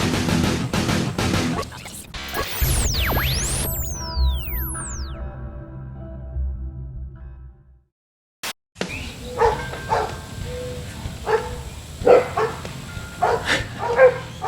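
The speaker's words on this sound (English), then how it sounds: "Dogs." Several dogs bark repeatedly at close range over a rumbling, noisy backdrop, with swooping tonal sounds early on, a brief silent gap, then renewed bursts of barking.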